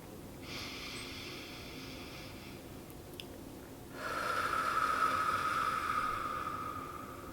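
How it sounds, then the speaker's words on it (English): A slow, deep breath drawn in through the nose and then let out through the mouth, as a calming exercise; a steady airy inhale is followed after a short pause by a longer, louder, breathy exhale, close and alone. "let's just start with a big inhale through our nose and an exhale through our mouth"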